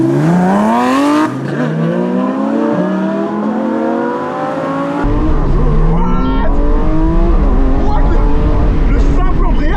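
McLaren SVJ supercar engine revving hard up through the gears with rising harmonic sweeps, a sharp shift break, then deeper louder acceleration, loud and close with a few voices talking over it.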